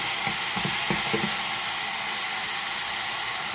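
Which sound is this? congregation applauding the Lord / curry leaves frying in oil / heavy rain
curry leaves frying in oil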